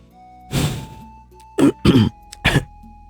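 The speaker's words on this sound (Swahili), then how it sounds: "baada ya kujikaza sana na kukohoa kidogo" In a Swahili audio drama, one long throat clearing is followed by three short, sharp coughs, each close and distinct against a quiet background with a faint hum.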